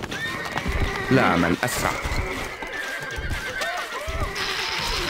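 Horses in the game Stronghold Crusader gallop with quick clip-clop hoofbeats and let out a loud whinny, close and brief, mixed with spoken voices and game sounds.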